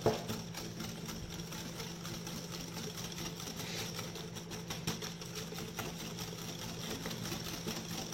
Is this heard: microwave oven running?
yes